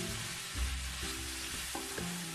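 Ground meat and large pieces of zucchini frying in a pan beside crisping potatoes, a close, steady sizzle broken by a few stirring scrapes, with no voices.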